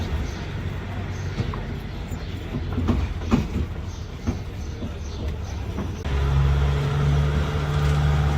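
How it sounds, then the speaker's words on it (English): A train passes close by in a European town with old fortress buildings, rumbling with clicks and a rising low drone, while people talk faintly in the background. "They have a train."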